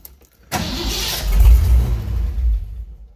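An old Ford Bullnose truck engine cranks briefly and fires up loudly nearby, settling into a deep, steady rumbling idle that swells and eases slightly before trailing off, with no voices.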